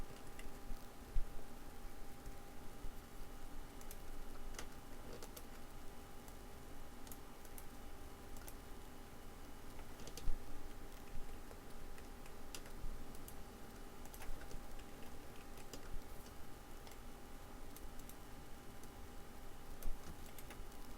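Computer keyboard and mouse clicks while editing a PowerPoint slide, with quiet scattered taps and click transients over steady low room hum throughout, no talking.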